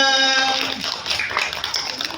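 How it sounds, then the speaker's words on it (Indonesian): Children clap their hands in a short, scattered burst right after a sung or musical note fades. The claps are uneven and moderately close, and a voice may be faintly present. "Oke, tepuk tangan kita semua."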